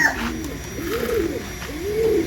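A racing pigeon coos close by, giving three rolling, throaty coos in a repeating rhythm over faint background noise.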